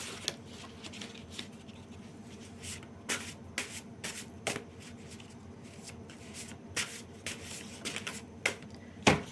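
Oracle cards with sentiment themes shuffled by hand, producing soft intermittent riffling and slapping bursts over a quiet room hiss, with a few sharper card snaps near the end.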